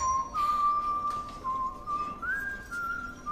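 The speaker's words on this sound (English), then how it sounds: "that self-same whistle that had haunted our nightmares for so long." A man whistles a wavering tune alone, holding thin sustained notes that slide up and down, fairly close and clear against a quiet background.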